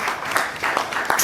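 An audience at a Kenyan youth organization event bursts into steady applause, a dense wash of many hands clapping close by, continuous and even throughout.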